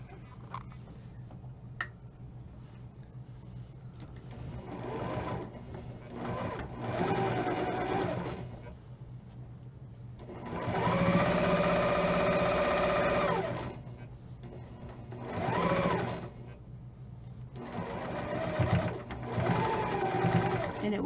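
Sewing machine stitching and back-stitching the thick seam of a three-sided triangle pillow, running in several short bursts with quieter pauses between them, fairly close, over low background hum.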